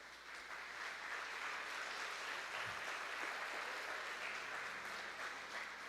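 A church congregation applauds in praise, a broad, even wash of clapping lasting throughout, steady and moderately distant, with one low thump partway through.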